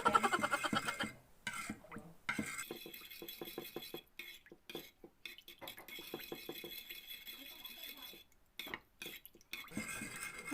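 Close clinking and scraping of a spoon against a bowl as Mang Inasal chicken marinade with lemongrass is stirred, irregular rhythmic strokes with short pauses, a voice talking faintly at times.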